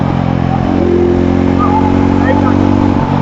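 A Yezdi Roadster motorcycle runs on the move, its engine giving a loud, steady drone that rises slightly in pitch partway through. A rider speaks over the engine noise.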